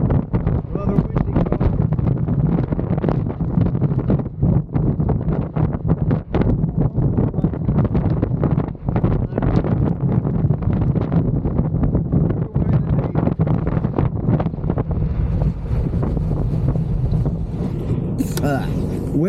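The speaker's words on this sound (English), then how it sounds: "wind is blowing the signs and the grass and everything's moving." Strong wind at a coastal lookout at Mohawk Point buffets the microphone in loud continuous gusts, with rustling grass and flapping signs mixed in throughout and no talk.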